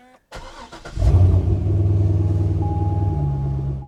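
Chevrolet C6 Corvette engine cranking briefly, then catching and settling into a loud, steady low rumbling idle with no talk.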